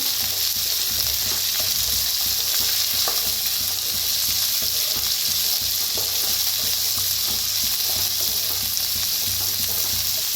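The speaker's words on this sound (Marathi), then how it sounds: "तर फोडणी बरोबर भाजूया।" Fresh peas and lightly browned onion frying in oil throw off a continuous, close, loud sizzle for the whole stretch, with small crackles scattered through it.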